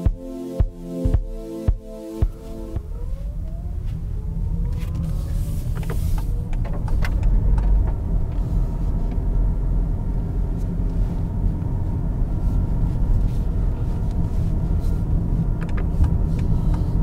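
A Toyota Camry on the road heard from inside the cabin, a few sharp clicks at the start, then a steady low rumble of tyres and engine that continues without a break.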